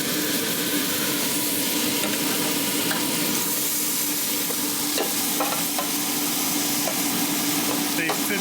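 Marinated steaks cooking in an air fryer, giving a steady broadband hiss and fan-like whir with faint sizzling and a few small clicks, close and continuous.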